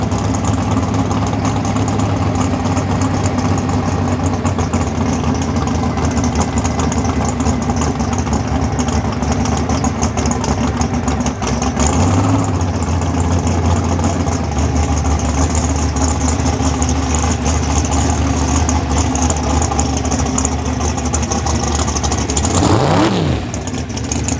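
Two race trucks, including a 1986 Chevy pickup, idle and rev their engines at a drag-style trophy race, a steady loud engine drone throughout with a rising rev sweep near the end.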